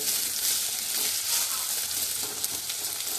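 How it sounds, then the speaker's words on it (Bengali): Brinjal pieces fry hard over high heat in hilsa oil, giving a dense, steady sizzle that fills the pan continuously with faint spatters, close and loud with no talking. "বেগুনটাকে আগে একটু বেশি আঁচ দিয়ে একটু ভেজে তুলে নেব।"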